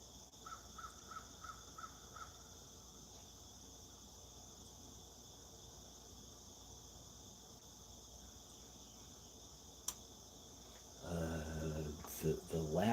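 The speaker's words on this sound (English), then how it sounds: "The loudest one doing the ka is just a crow." A crow caws about six times in a quick series against a steady backdrop of chirping insects at dawn, faint and distant, followed later by a louder burst of other sounds.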